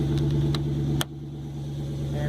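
A 2012 Dodge Charger R/T engine and exhaust idle steadily after startup, a close low rumble that runs throughout with brief clicks near the start.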